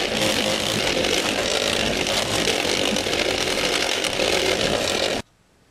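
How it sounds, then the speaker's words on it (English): A power buffer whines steadily while buffing the clear coat on FZR motorcycle parts, a loud, continuous motor drone with grinding friction that cuts off abruptly near the end. "as these parts buff out, oh, it is just, we're almost at the end of the buffing"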